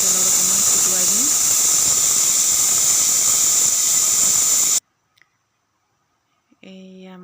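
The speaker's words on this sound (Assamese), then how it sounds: "এয়া জিৰা গুটিখিনি এতিয়া তেলত অকণমান ফুটুৱাই দিম।" Cumin seeds sizzling in hot oil in a kadai, a loud, steady frying hiss lasting several seconds that cuts off abruptly into near silence, followed by a brief faint voice.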